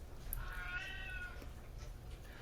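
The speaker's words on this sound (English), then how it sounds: "we got some kitties in the background talking over there" A single drawn-out cat meow rises and falls over about a second, somewhat distant and moderately quiet, in a house full of animals. A steady low background hum runs underneath, with no talking.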